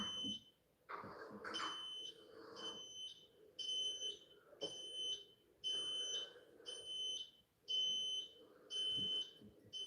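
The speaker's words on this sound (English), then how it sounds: "this beep, beep, beep is already disturbing" A smoke alarm sounds its high electronic beep in repeated short bursts of a few chirps each, steady and fairly clear, with scattered background rustle and low room noise between them.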